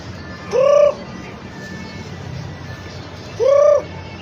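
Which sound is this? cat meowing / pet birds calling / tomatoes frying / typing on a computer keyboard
pet birds calling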